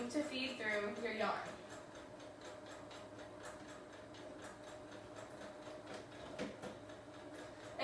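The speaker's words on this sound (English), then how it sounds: "move to your sewing machine and actually start stitching it" A sewing machine stitches fabric in a fast, steady mechanical rattle that runs through the whole stretch, preceded by a short burst of speech at the start.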